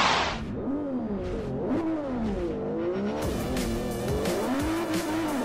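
Race cars from the game Forza Motorsport 4 rev hard, their engine notes rising and falling in sweeping pitches, while tires squeal and skid through corners, loud and continuous with no voices.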